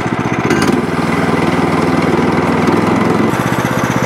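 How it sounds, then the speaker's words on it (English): A sawmill motor runs and idles at a steady, loud, close drone with a constant low rumble, all on its own. "The motor is idling down far enough."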